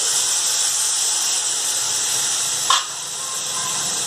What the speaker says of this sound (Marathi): आणि थोडंसं आपण पाणी टाकून ती चांगली भाजी शिजून घेऊयात